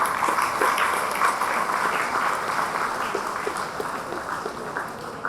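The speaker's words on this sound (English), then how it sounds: "Big round of applause to him." Applause from an audience at a business incubator event in Tumakuru, a dense, steady clapping that fades gradually over about five seconds.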